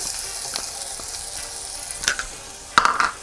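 Chopped green pepper goes into melted butter in a pan, giving a soft frying hiss with a few light clinks and stirring scrapes near the end. Close and fairly quiet, with no one speaking.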